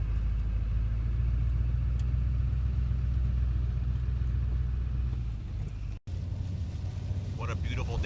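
An LS-swapped squarebody rollback truck drives along a Pennsylvania road, its engine a steady low rumble heard from inside the cab, briefly dipping near the end while a voice speaks faintly.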